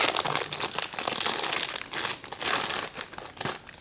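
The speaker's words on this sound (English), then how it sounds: "all you need to do is to peel this foil off, just like that" Foil seal being peeled off a SCRAM 411 motorcycle battery in a garage, a close, steady crinkling and tearing that runs for a few seconds with brief pauses, no voices.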